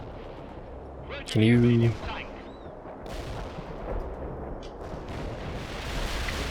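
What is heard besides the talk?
artillery firing in video game World in Conflict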